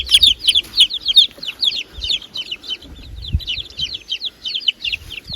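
Baby chicks kept indoors in a brooder chirp continuously in rapid, high peeping bursts, near and fairly loud, with faint low handling noises underneath.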